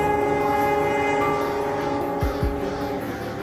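The Maharajas Express luxury train travels across northwest India, sounding its horn in a sustained multi-tone blast over steady rail rumble, with two brief low thumps near the end.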